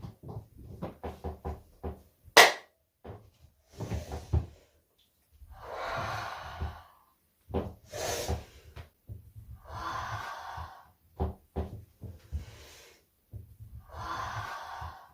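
Deep breathing exercise, with slow audible inhales and long warm exhales repeated at a steady pace, close by, separated by short quiet gaps and a few soft knocks and clicks.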